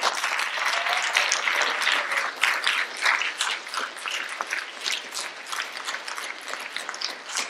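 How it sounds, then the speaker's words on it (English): A school audience claps steadily throughout in sustained, dense applause at an event honoring a science fair group, the clapping staying fairly loud with no talk over it. "Another big round of applause."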